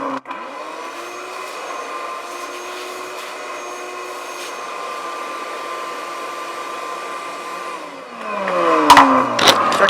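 Vacuum cleaner running inside a Mustang's interior, a steady high whine switching on sharply, holding even, then shifting and rising in pitch near the end with clunks as the nozzle moves.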